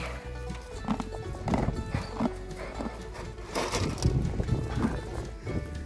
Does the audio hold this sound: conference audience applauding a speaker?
no